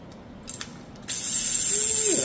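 A Penn 940950 fishing reel's ratchet buzzes in a fast, high clicking run after a few short mechanical clicks, close and fairly loud.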